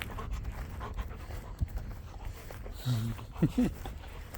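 Dogs for sale pant in quick, breathy bursts close by outdoors in a grazed field, with a soft whimper-like sound near the end over quiet ambient noise.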